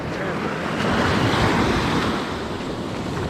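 Big sea waves break and wash ashore at a Baltic beach in Rewa, Poland, a steady loud roar of surf with wind buffeting the microphone throughout.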